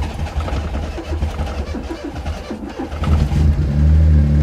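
A custom engine fitted in a Daihatsu Mira cranking and catching, running rough with uneven throttle blips, then rising into a louder sustained rev near the end, close by with no talking.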